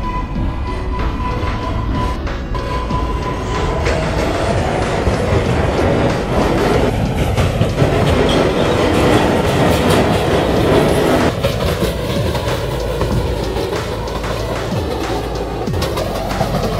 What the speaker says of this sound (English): This is a 74th Street Broadway bound 7 local train